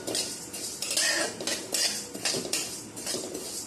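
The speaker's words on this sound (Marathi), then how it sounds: "कुळीत छानपैकी भाजून घ्यायचे आपल्याला" Horse gram dry-roasts in a pan while a metal spoon stirs it, making continuous scraping and rattling with rhythmic clinks. The sound is close and steady, with no speech.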